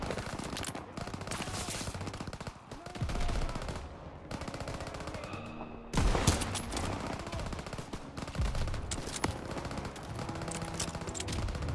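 Rapid bursts of automatic gunfire and rifle shots from the World War II shooter game Call of Duty: WWII, dense and loud throughout, with sharper volleys near the end and no talking.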